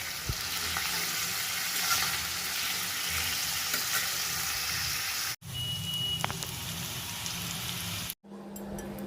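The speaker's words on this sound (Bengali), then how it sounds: "এখানে আলু আর কপিগুলো তো সেদ্ধ করাই ছিল, এগুলোকে একটু হালকা করে ভেজে নিলাম।" Boiled potatoes and cauliflower shallow-fry in a pan with a loud, dense, continuous sizzle like rain, lasting several seconds with two brief cuts and faint stirring clicks; nobody speaks.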